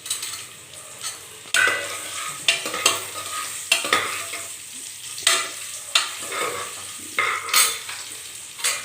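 Chili powder and turmeric frying in a pan, stirred with a utensil in repeated sharp scrapes over a steady close sizzle, with no voices.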